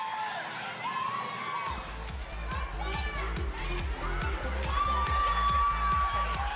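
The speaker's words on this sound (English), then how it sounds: "Keep the cheering going, he really needs your help" A telethon studio crowd cheers and shouts continuously during a bouncy Twister game show challenge, while steady thumping beats and a host's voice run beneath the noise.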